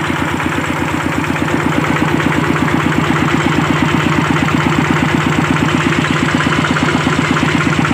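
A water pump engine chugs along in a steady rapid rhythm, loud and close, its regular thumping pulse unbroken throughout with a faint whine riding over the running engine, which has been running low on engine oil; no voices.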